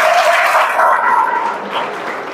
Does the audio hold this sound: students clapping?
yes